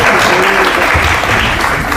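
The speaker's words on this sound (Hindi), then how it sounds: "जनता के तालियां सुन के" A studio audience at a televised courtroom-style interview show bursts into loud, sustained applause, dense clapping holding steady for the full two seconds with no voices over it.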